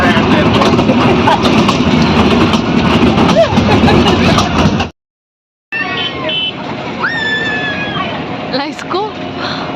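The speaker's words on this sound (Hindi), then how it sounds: "हम अभी ट्रेन में हैं एंड हम राजकोट का साइड कर रहे हैं" Riding a toy train near Rajkot, with a steady rumbling rattle of the running ride throughout, a short cut to silence midway, then the motion resuming with squeaky tones and voices chattering over it.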